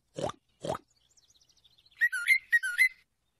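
Two short grunting oinks, followed by a series of bright, warbling whistled notes like a singing tune; clear and alone.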